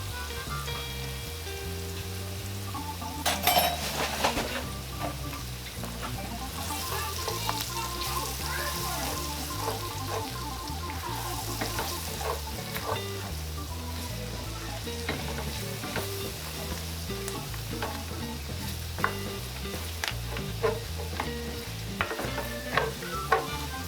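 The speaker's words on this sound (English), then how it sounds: "continue to stir this, because all we want to do at this point is let our flour kind of brown and cook" Flour browns in a pan with chicken gizzards and onions, sizzling steadily while a spoon stirs and scrapes in a busy, close, continuous rhythm.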